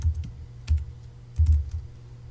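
Typing on a computer keyboard: quick clusters of close, soft key taps in uneven bursts, with no voice.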